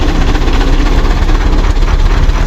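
Coal-fired engine driving a sawmill as a pine log is cut into a 2x4, heard as a loud, close, steady heavy mechanical rumble with rhythmic pulsing throughout the short stretch.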